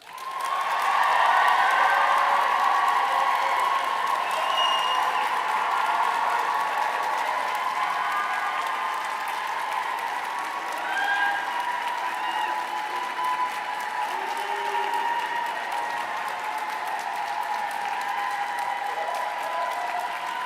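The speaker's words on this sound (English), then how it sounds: "Will you please applaud them in return?" Graduates at a university ceremony in Rochester Cathedral applaud their supporters, a sustained crowd of clapping echoing in the large stone interior, loudest at the start and holding steady, with a few voices beneath.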